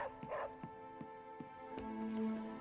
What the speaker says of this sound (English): That cute little doggy.